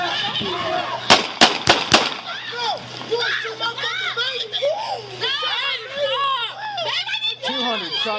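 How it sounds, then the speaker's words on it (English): Several loud gunshots fired in rapid succession in a real street incident, followed by overlapping excited voices talking and shouting in the background. "Shots fired. 200 shots fired."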